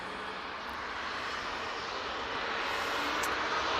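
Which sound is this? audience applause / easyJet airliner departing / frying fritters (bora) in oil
easyJet airliner departing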